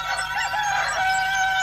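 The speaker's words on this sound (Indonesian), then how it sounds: "Ayam jantan sudah berkokok." A rooster crows in a radio drama, one long drawn-out cock-a-doodle-doo, loud and close, with no voices.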